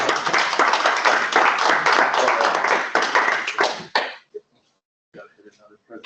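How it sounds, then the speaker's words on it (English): An audience at a senior design presentation for a fluid power vehicle challenge claps in a dense, lively burst for about four seconds, then the clapping stops abruptly and quiet talk follows. "ready to clap?"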